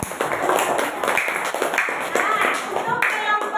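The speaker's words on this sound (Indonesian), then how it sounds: "Tepuk tangan buat kelompok 2." Students in a classroom clap for a student group, a lively mix of quick claps with voices and cheers over them, ending in a few louder, distinct claps.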